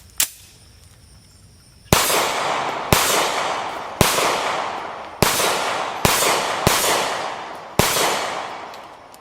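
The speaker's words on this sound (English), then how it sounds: "I just started shooting through the rest of my 115 grain brass cased ammunition" Remington R51 Gen 2 pistol firing 115 grain brass-cased ammunition outdoors: a single sharp shot, a pause, then six more loud reports in a steady rhythm, each ringing briefly before the next.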